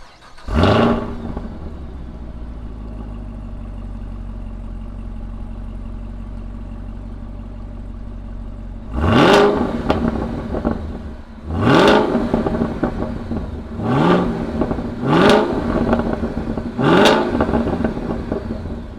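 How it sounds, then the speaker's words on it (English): A 2017 Chevy Camaro ZL1 supercharged muscle car cranks and fires into a loud idle, then gets four sharp throttle blips that rise and fall over the rumbling idle, heard close with no talking. "let's fire up the ZL1 and see what it sounds like"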